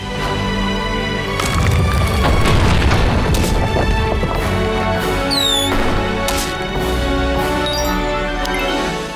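A rocket explodes in the video game Evering, a loud deep boom with crashing debris spread across a dense, busy game soundscape, with scattered layered impacts and a few high whistling tones.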